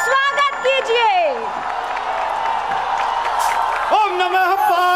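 Audience applause and cheering welcoming Kumar Vishwas on stage at a MahaShivaratri event in Banaras, a steady wash of clapping under a loud amplified voice.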